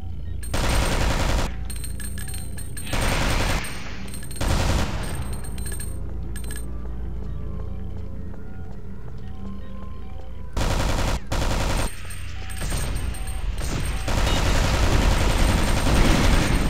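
Bursts of rapid automatic gunfire in the video game Alien Shooter 2, in short and long volleys, loud and close, separated by brief pauses, with a sustained barrage toward the end.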